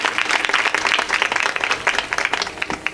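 Audience applause at a Marathi kirtan honouring a pakhawaj gurukul founder, a dense, steady wash of many hands clapping throughout, loud and continuous with no break.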